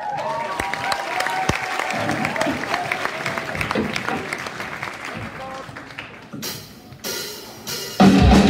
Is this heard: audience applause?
yes